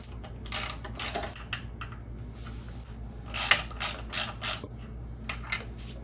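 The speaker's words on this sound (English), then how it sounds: "Next, take out these two bolts. These are a T45." A ratchet tool loosens T45 bolts on HP4 motorcycle rear sets, its clicking arriving in several short bursts of varying length, close and fairly loud, with quieter mechanical handling between them.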